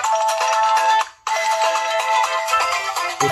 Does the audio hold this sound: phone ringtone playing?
yes